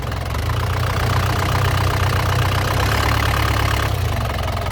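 A 2013 Isuzu Panther LV 2.5 turbo diesel engine revving, a loud, steady, close rumbling drone that holds throughout with slight variation and no speech.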